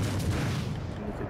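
Main guns on the Seattle cruiser in World of Warships Legends fire as a deep, muffled boom that rumbles low and fades out over about a second.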